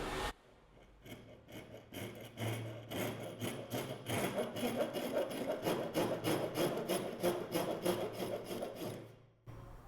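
A Wolfcraft Ryoba Japanese pull saw cuts a V notch into mahogany, with steady rhythmic rasping strokes running close and loud for nearly ten seconds, then stopping abruptly.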